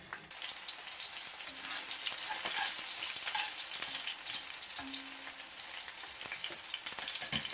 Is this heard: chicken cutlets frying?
yes